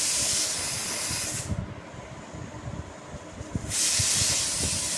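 A pressure cooker on a gas flame lets off a loud, steady hiss of escaping steam that drops away briefly in the middle and then surges back, strong and continuous, with no voices.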